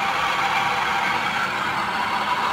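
Hyundai Santro Zing engine idling steadily after an idle speed actuator repair, a constant mid-pitched hum with a whining, buzzy tone, recorded close with no talking.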